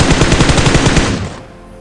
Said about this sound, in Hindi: बट मैं कुछ शॉट देता हूँ।